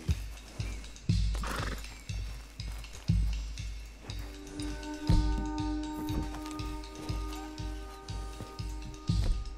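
An agitated horse in the video game Red Dead Redemption 2, with repeated hoof clip-clops in a steady rhythm and a snort or whinny, followed by bright sustained chime-like game tones.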